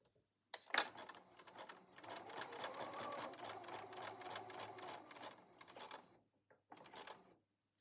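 A sewing machine stitches a side seam pocket up to the stitching line, its needle running in a steady mechanical chatter for several seconds after a sharp initial clack, then stopping with a couple of brief taps.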